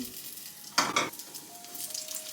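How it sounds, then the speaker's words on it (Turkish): Cooking oil is poured into a hot pan, giving a short burst of bright sizzling, followed by a quieter, steady frying hiss over low background noise, without talking. "Yağı döküyorum."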